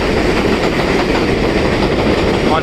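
A New York subway train rumbling close and loud, a steady dense roar of wheels on track with faint rhythmic clatter and no pauses.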